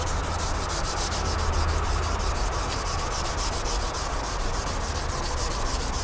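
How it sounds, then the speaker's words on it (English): Steady wet sanding by hand with wet/dry sandpaper on primer on a Harley-Davidson Sportster Ironhead part, a continuous rhythmic rubbing and scraping of paper over the surface, close and fairly loud with no voices. "you want to have light pressure on your wet dry sandpaper and get a feel to what you're taking off here"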